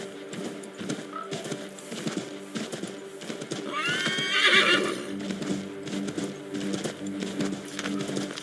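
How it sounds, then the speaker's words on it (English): Horse from Assassin's Creed 3 gives a bright, wavering whinny in the middle, set against clip-clopping hooves and a steady game ambience, with no talk. "Take my horse! Bring him here!"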